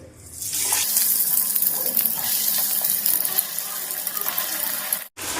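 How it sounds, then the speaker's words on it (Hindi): Pieces of wheat-flour shakkarpara batter dropped into hot oil in a kadhai, with a steady loud hiss and bubbling sizzle of frying that runs throughout, briefly cut off near the end. "हम एक कढ़ाई में तेल गरम होने के लिए चढ़ा दिए थे। अब एक एक करके पीस डाल देते हैं।"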